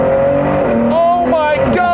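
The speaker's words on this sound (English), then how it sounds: "I'm gonna floor it very briefly." A 2017 Ford GT in track mode accelerates hard at full throttle, its engine note climbing loudly and steadily as speed builds, heard close from inside the car.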